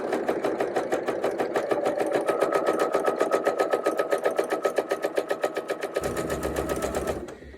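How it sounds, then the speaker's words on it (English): A sewing machine stitches a curved arch seam on a half-circle quilt block, a rapid, even mechanical chatter of needle strokes running close and loud for several seconds before slowing and stopping. "And I'm gonna keep sewing."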